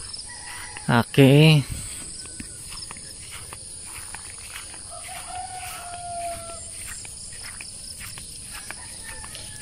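A rooster crows once, loud and near, early in the morning among chickens being fed, then gives way to quieter farmyard ambience with insects and faint distant calls. A single short word is spoken.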